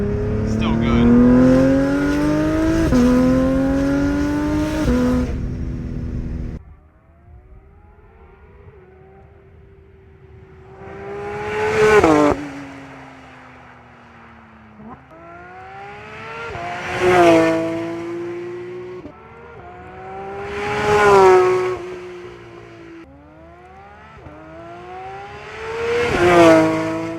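A Porsche 992 GT3 RS with a Soul exhaust and its valve closed revs loudly, then downshifts repeatedly, each shift bringing a sharp rising engine surge followed by a falling whine, in regular waves close by.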